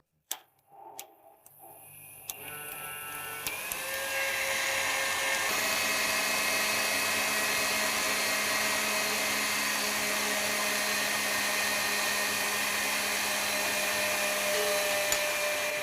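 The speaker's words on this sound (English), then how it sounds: "Now we'll beat it with the sugar until it's light and fluffy, so just let it mix and gradually add the sugar" An electric mixer whirs steadily as it beats butter and sugar for a lemon cake, starting after a few clicks and brief pauses, then running as a continuous loud, even drone with sugar gradually added.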